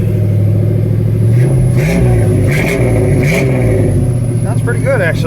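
A 1987 Chevrolet Blazer engine runs at idle with a steady low hum and some clattering, a few rises in pitch, loud and close, while someone talks over it.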